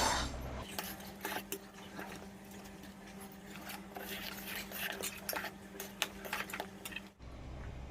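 Stirring a laddu mixture of jaggery, dry ginger and turmeric in a pan makes repeated scraping and clinking against the metal over a steady low hum, close and fairly quiet, stopping abruptly near the end.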